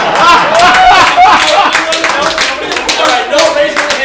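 Applause from a comedy sketch audience: brisk clapping at close range that holds steady, with a voice talking over it.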